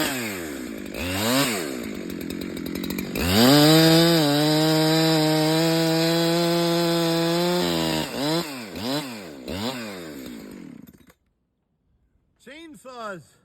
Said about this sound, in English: I guess I'll fire up the saw and finish this out.